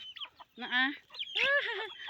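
Hungry chickens with no feed left cluck and squawk close by in short bursts, with no talking.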